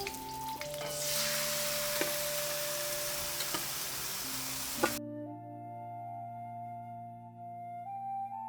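Marinated chicken hits a hot pan and sizzles loudly with a broad hiss for about five seconds, then cuts off abruptly, leaving only steady background music tones.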